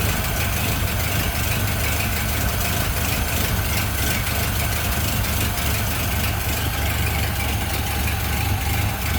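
A 1929 Ford Model A roadster engine idles steadily and evenly, a constant low rumble with a faint rhythmic knock running unbroken at close range.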